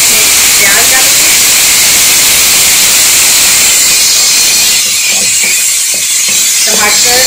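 Tomatoes drop into four tablespoons of hot cooking oil and set off a loud, continuous hiss of sizzling that stays close and steady throughout.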